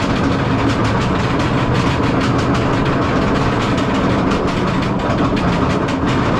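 A SheiKra roller coaster train at Busch Gardens Tampa rumbles and clatters steadily along the track, loud and close, with continuous rattling and rhythmic clicking and no voices.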